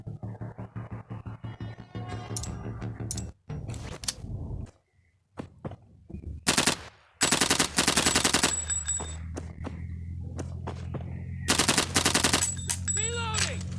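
Realistic HD gunshot sounds from a Counter-Strike 1.6 weapon pack: several loud bursts of rapid automatic fire separated by quieter stretches and short gaps, with a sharp ringing tail near the end.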